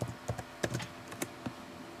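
Password typed on a computer keyboard: a quick irregular run of about ten light key clicks at close range, with no talking.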